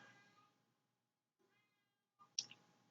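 A house cat meows once, briefly and clearly, in a quiet room, preceded by a few faint soft rustles and small noises.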